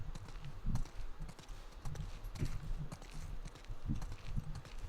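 Horse hooves clip-clop steadily on the ground in The Last of Us Part 2, a rhythmic walking gait heard fairly close over a constant low ambient rumble.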